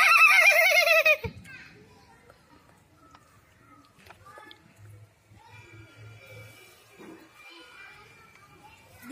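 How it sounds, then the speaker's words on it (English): A short, high whinny rings out at the start, then fades into quiet background with faint scattered noises. "Horse make a neighing sound."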